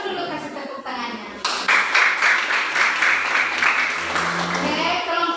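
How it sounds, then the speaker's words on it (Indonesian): A classroom of students applauds for a presenting group, a dense burst of clapping that starts abruptly and carries on steadily at close range, with voices underneath. "Silakan dulu kasih tepuk tangannya."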